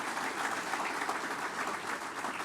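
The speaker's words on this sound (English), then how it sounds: "Let's give another round of applause." A ceremony audience applauds at a business college naming event, producing a dense, steady wash of clapping heard from within the crowd, with no speech over it.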